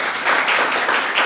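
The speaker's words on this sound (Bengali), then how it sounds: "তাহলে ওনার জন্য আমরা হাততালি দিই" A small audience at a church wedding breaks into a brief burst of clapping. It sounds soft, slightly distant and even throughout.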